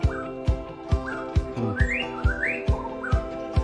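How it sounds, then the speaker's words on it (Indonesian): Birds at a safari park in Jantho, Aceh Besar, give several rising whistled calls over a steady tonal drone, punctuated by regular sharp thumps roughly every half second. "Sahabat tentu sudah mendengar burung-burung kan? Suaranya."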